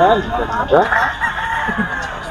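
A Golden Boy sweater gamecock crows loudly and nearby in a long rising and falling call, with clucking and other fowl sounding among many birds at a busy rooster market.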